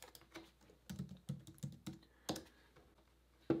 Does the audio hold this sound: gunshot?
no